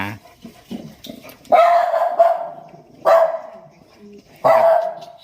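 A dog barks several times in spaced, sharp bursts, fairly close, with quiet background noise between the barks.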